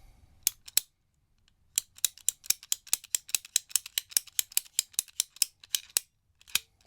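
An old, dirty golf ball recovered from a lake is cut open. Sharp, dry clicks and snaps ring out, a couple at first and then a long, fairly even run of close, crisp ticks.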